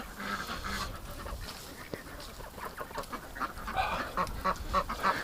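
Ducks flying off over mucky winter ground, a burst of quacking and honking calls, fairly faint and distant, growing busier toward the end.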